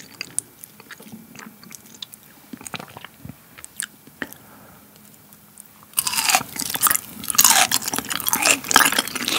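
Thick slices of raw beef eaten close to the mic, wet chewing and soft squishy bites in quiet, irregular bursts, turning into a louder stretch of sticky crunching and smacking in the final seconds.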